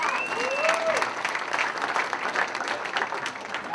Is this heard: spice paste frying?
no